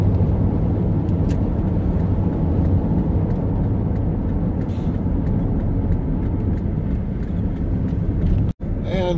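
A car drives through the Glorieta Pass with a steady low road rumble and engine hum from inside the cabin, unbroken apart from a brief thump near the end.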